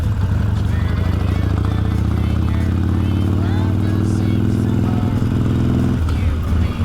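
A Harley-Davidson motorcycle on the move gives off a loud, steady low engine drone with a throbbing rumble that dips near the end, while someone talks over it.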